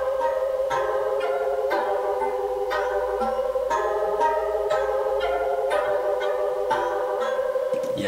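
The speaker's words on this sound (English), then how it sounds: "I found this really simple synth called Exotic Metals" A simple Exotic Metals synth patch plays a haunting, scary-toned repeating melody for a trap beat, with metallic bell-like struck notes at a steady pulse over a sustained tonal bed, loud and continuous.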